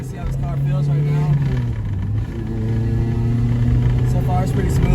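Honda Civic DX hatchback with a swapped K20Z3 engine, converted from automatic to manual and running on 91 octane, cruises along the road with a steady, close engine drone and gentle rises in pitch from inside the cabin.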